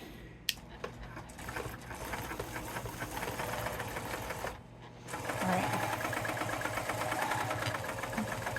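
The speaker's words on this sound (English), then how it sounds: "So let's go ahead and stitch down until I run out of room" A long arm quilting machine stitches through a quilt held on a small frame, a steady close mechanical whir that pauses briefly midway, then resumes slightly louder and faster.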